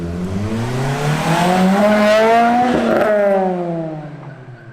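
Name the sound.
car with new exhaust revving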